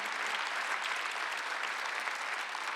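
Steady applause from a church congregation during a Sunday worship service, dense and even clapping that fills the space throughout without any break.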